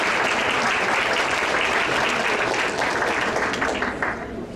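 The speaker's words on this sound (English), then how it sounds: "Let's give a round of applause for Leslie Laycock Lee." Sustained applause fills a community volunteer honors ceremony, steady and dense, then eases slightly near the end.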